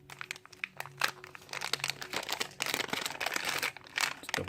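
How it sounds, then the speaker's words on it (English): Thick plastic cornstarch bags from a new LG V30 phone box being handled, close crinkling and rustling with irregular crunchy bursts and small clicks, moderately loud. "we have our good old cornstarch bags. These are kind of a thicker plastic cornstarch."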